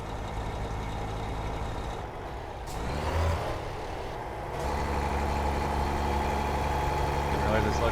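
A truck engine in American Truck Simulator drones continuously, a low rumble that dips briefly and then swells louder as the revs rise, with a short hiss partway through.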